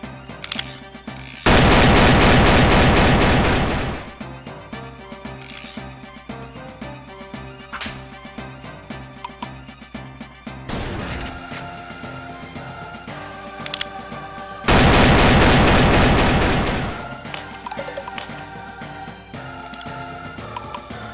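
Gunfire in the video game Boot Hill Bounties: two loud, sustained bursts of shots a dozen seconds apart, with quieter game music and effects between them.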